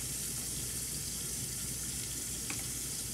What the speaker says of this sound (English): I'm gonna go ahead and put my water on.